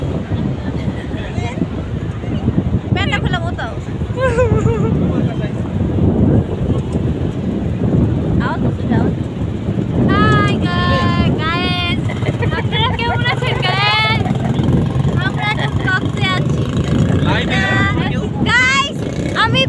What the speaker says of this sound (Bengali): এত জোরে ঢেউ আসে, আর এখানে সমুদ্রের অনেক শব্দ